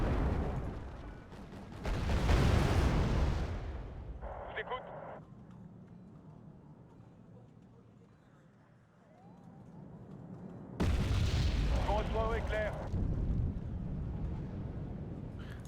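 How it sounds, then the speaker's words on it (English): Bombs burst in a Wargame: Red Dragon battle set in a 1992 Second Korean War, two heavy booming blasts several seconds apart with quieter rumble between, someone talking over the action. "Look at him dropping all these bombs on me."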